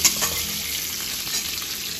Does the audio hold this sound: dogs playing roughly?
no